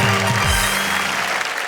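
At a shayari poetry show, an audience claps in a short, dense burst that fills the room at close range.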